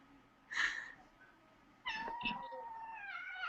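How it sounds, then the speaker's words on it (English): A house cat meows twice near the microphone: a short cry at first, then a longer, wavering meow after a pause, with no talk over it. "I hear a kitty."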